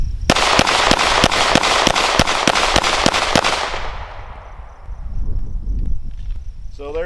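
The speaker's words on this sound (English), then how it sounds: "So we're going to just keep shooting away" Springfield Armory XDM 9mm pistol firing Federal Premium ammunition at a target: about eleven sharp, evenly spaced shots in quick succession, loud and close, followed by fading ringing and outdoor background sound.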